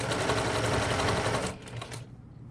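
A sewing machine stitches a tote bag seam with a 1/2-inch seam allowance in a fast, steady run, then slows and stops near the end.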